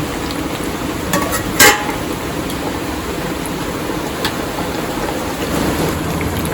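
Chicken kosha cooking down in bubbling oil, a continuous dense sizzle and spatter up close, with a few sharp pops and a brief louder crackle burst early on.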